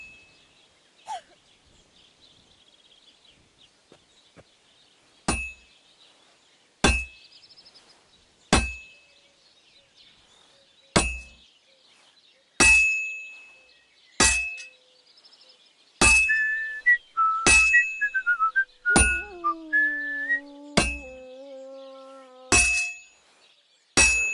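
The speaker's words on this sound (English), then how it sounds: "You've got to hammer the workpiece evenly." A hammer strikes a sword blade on an anvil in a forge, sharp metallic rings repeating at uneven intervals, starting sparse and getting quicker, with lingering ringing overtones after the later blows.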